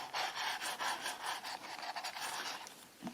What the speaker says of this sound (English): Let's give that a little bit of a burnish.